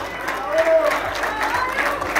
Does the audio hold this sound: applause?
yes